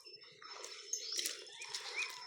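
Pet lovebirds chirping in a backyard enclosure: faint, high, twittering calls in quick overlapping runs over a soft background hiss.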